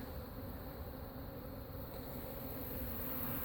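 Honeybees hum around extra comb removed from a hive beneath a mobile home, a faint, continuous low buzz with no voices.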